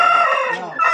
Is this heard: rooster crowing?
yes